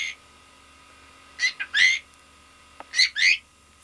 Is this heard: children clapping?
no